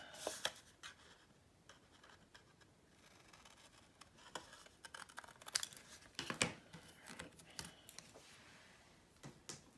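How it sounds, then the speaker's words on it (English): Small yellow Cutter Bee craft scissors snip the corners off paper, with scattered crisp close snips and faint rustling of the sheet between cuts, quiet overall and without speech. "These are cutter bee scissors. And I'm going to cut out the corners."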